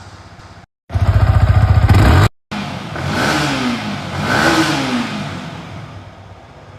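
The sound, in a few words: Yamaha R15 V4 motorcycle exhaust revving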